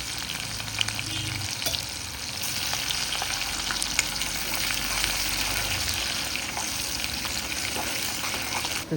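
Cumin, garlic pieces and chopped onion sizzle steadily in a hot pan, a dense, continuous frying hiss with occasional stirring scrapes, close and fairly loud with no talking.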